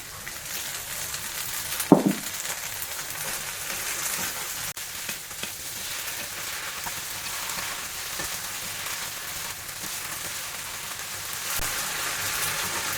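Kuey teow white flat noodles frying in a pan with cooked egg, a steady close hiss and sizzle with occasional clinks and scrapes from stirring, and no talking.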